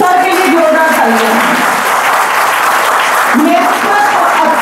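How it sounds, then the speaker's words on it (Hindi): A college audience in Uttarakhand gives the principal loud, continuous applause, close and steady, while a voice talks over the clapping. "सर के लिए जोरदार तालियां।"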